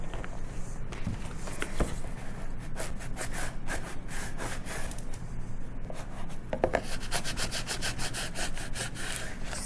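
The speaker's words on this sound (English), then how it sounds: "Squeegee it down." Oracal 651 vinyl transfer tape being squeegeed down onto a recipe book, giving a run of close, scratchy rubbing strokes that repeat steadily through the clip with no talking.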